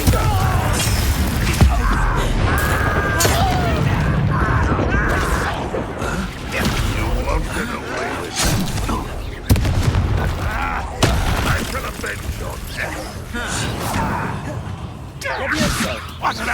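Confringo fire spell explosions in Hogwarts Legacy gameplay come as repeated sharp cracks and booms over a dense bed of combat effects and music, with speech-like game voices mixed in.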